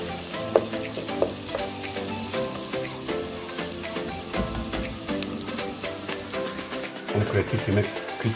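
Onion and paprika fry in a pan as the base for chicken paprikash, a continuous close sizzle with occasional stirring knocks, partly under a speaking voice.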